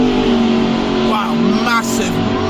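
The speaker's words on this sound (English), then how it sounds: "massive wheel spin off the line. Huge wheel spin." A Rover 620 launches off the line at the Santa Pod drag strip with heavy wheel spin, engine roaring loud and close with a rising rev sweep as tires spin, a voice talking over it.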